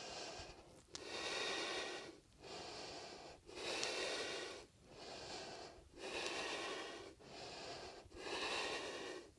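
Slow, deep yogic breaths drawn in and pushed out through the nose during a dynamic shoulder, arm and back session, about six airy rushes with short pauses between, close and steady with no talking.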